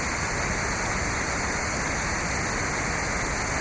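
Dawson Brook Falls in Nova Scotia pours in a steady, loud, unbroken rush of falling water that fills the whole scene with dense white-noise roar.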